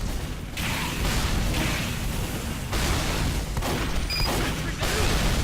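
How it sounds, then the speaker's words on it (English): Rocket blasts and gunfire from a Team Fortress 2 match: dense, continuous booming explosions and whooshing projectiles with short gaps, loud and close throughout. "Kappa just got shot in the ass with a rocket there."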